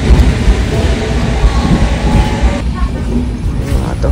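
A passenger train pulls into Kudal station on the Konkan line, with a loud, steady low rumble of wheels and carriages throughout, easing slightly toward the end as it slows.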